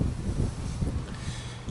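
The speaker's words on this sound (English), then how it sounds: "It's a typical windy evening in southern Alberta, and I hope the wind doesn't interfere too much in the quality of this recording." Strong wind buffets the microphone on a windy evening in southern Alberta, a steady low rumbling roar with gusty swells that continues without a break and with no voices.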